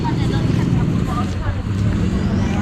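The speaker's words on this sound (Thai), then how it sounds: "แถวนี้คือรถติดตลอด" Traffic rumbles along a busy, congested market street in a Thai town, with a continuous loud engine drone and passing vehicles mixed with crowd chatter.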